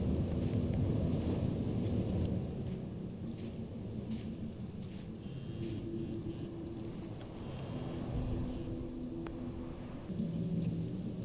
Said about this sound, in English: Is this a storm? Is it coming?